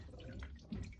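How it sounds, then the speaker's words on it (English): Water cascades and drips steadily from a soaked inner wrap lifted out of an aqueous conservation bath for a Golden Age comic, a close, continuous patter with a slightly heavier splash near the end. "I want the water to cascade down."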